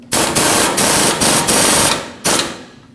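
Tie rod mounting nut being snugged onto a 2005-2021 Nissan Frontier 2WD steering knuckle, heard as loud, close bursts of a power tool that whir in several back-to-back pulses, then stop and make one final short burst.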